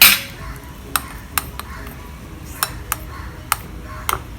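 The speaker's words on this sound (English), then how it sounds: "Now mix it." A spoon clinks sharply against a bowl in scattered taps while ice cream ingredients with cream are mixed, each tick distinct and close over a quiet room.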